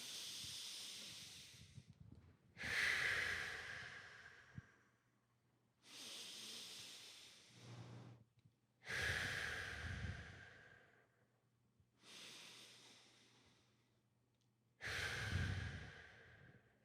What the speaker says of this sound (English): we're going to take 6 deep breaths together, everybody